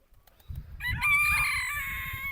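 A few soft clucks come from close by, followed by a loud, drawn-out rooster crow.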